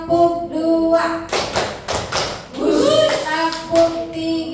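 Participants at an Indonesian teacher-training workshop clap in unison for a counted clapping game, several sharp group claps close together, with a speaker's voice before and after them.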